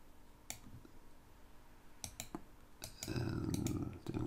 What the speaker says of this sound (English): then I'm erasing by left clicking, and then I'm just right clicking here